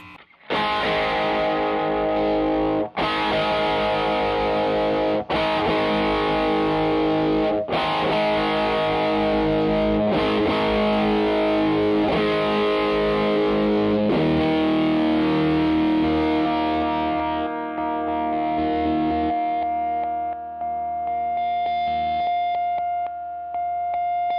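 An electric guitar played through a Fulltone Ranger treble booster pedal, with a bright, distorted tone, plays strummed chords and notes, with several brief breaks, ending on sustained ringing notes.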